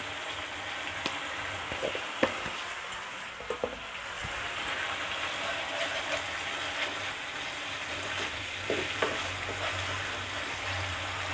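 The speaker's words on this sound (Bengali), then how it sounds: "2 মিনিটের মতো আমি মশলাটা কষিয়ে নিলাম।" Spice paste with turmeric and salt sautéing in a pan for a mustard pabda fish curry, a steady crackling sizzle with scattered scrapes and clicks of stirring, close and alone.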